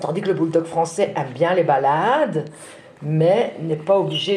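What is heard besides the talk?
No everyday noises stand out.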